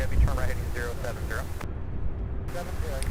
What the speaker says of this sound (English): I just looked up and there it was, taking off, the C-130.